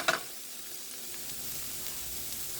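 Sausage and oregano frying in a pan, a steady soft sizzle with a brief louder burst at the very start, then an even crackling hiss continuing alone.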